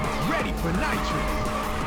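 Ridge Racer 2 car drifting through a corner on PSP, wavering squeal of tires riding over steady engine roar and game music, with voice chatter mixed in throughout.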